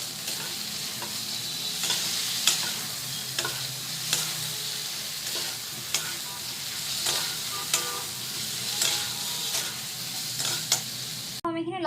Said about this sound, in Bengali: এবার এটাকে আমি মিক্স করে নেবো।